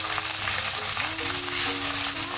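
Sliced onions sautéing in about three tablespoons of hot ghee in a pan for onion payasam, a dense continuous sizzle at close range with a faint tonal hum underneath and no voices.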